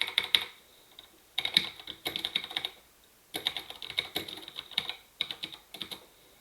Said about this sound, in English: start typing Firefox.